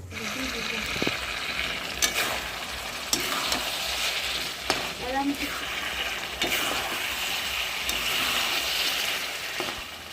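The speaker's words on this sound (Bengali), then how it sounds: "নেড়ে চেড়ে কষাতে হবে যেন কোনোভাবেই কড়াইয়ের তলায় লেগে না যায়" Chicken curry masala fries in a wok with a continuous loud sizzle, broken by repeated sharp scrapes and clanks of a spoon stirring the thick mixture against the pan.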